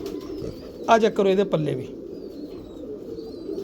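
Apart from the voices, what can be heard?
pigeons cooing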